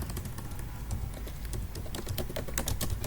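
Keys on a computer keyboard clatter in quick, irregular bursts of typing, close and fairly quiet, while a spreadsheet table is being filled in, with no voices.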